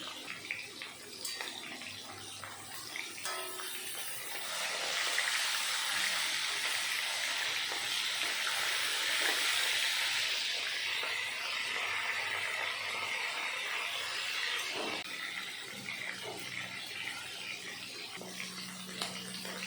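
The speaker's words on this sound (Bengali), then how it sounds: "তেল ভালো করে গরম হয়ে গেল, তার ভিতরে দিয়ে দিলাম মেখে রাখা মাছের মাথা।" Marinated fish heads sizzle in hot mustard oil, a soft steady hiss that swells in the middle and then eases back down, with light clatter underneath and no talking.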